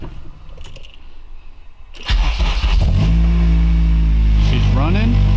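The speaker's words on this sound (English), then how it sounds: "So we're in the car, we're about to start it up." A car engine with a newly wired kill switch is cranked and catches after a couple of seconds, settling into a loud, steady idle with a slight rev. Someone speaks briefly before it starts.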